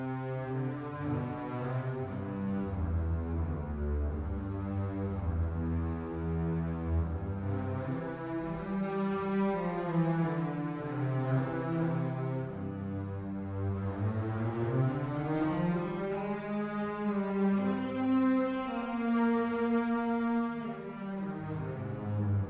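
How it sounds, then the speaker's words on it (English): Low, warm bowed notes from sampled orchestral double basses in the Berlin Symphonic Strings library, played in slow, overlapping swells, sliding between pitches at a soft, even volume with no voices. "let's have a listen to the basses"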